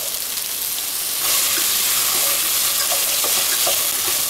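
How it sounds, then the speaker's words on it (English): Carrots and potatoes fry in a pan with ginger garlic paste for a mint vegetable pulao, giving a steady hissing sizzle that grows louder partway through, with faint stirring clicks. "fry them well"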